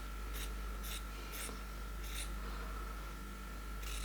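Scissors snip through the top layer of a cotton t-shirt, five or six crisp, separate cuts spaced about half a second apart over a steady low background hum.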